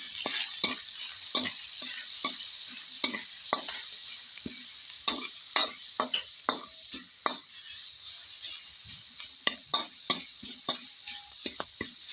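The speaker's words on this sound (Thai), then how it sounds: "ผัดจนหอม" Chillies stir-fried in a pan with sizzling oil for a Thai egg and basil curry, steady frying hiss broken by irregular scraping and stirring knocks throughout, close and fairly quiet with no talking.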